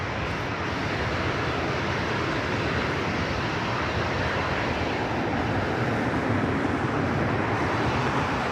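A jet airliner arriving at Los Angeles International Airport roars steadily and loudly, its broadband engine rush sustained throughout with no voices.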